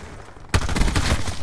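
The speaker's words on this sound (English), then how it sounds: "It's a burst gun." M16 burst rifle firing in Black Ops 4, a loud sudden onset followed by rapid clustered shots in quick bursts up close, sustained through the rest of the moment.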